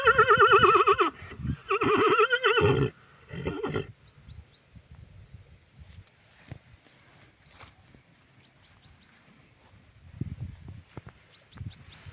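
A draft horse lets out loud whinnying neighs in two or three strong bursts at the start, then quieter stamping and scattered small noises follow, with faint bird chirps and no talk.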